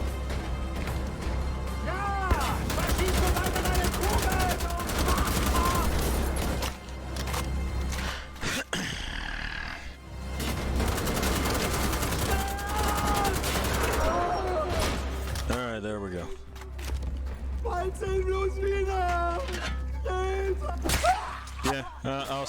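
Gunfire in Wolfenstein: The Old Blood, with repeated bursts and sharp shots cracking through game music and effects, plus short in-game voice sounds and gasps around them.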